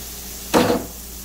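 Swedish-style meatballs dropped into a hot pan on an induction cooker give a single sudden sizzle that flares up loudly, then tapers over a fraction of a second against a quiet background.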